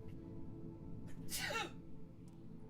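A single sneeze bursts out in the middle of a quiet room, over a low steady background, with faint talk before and after it.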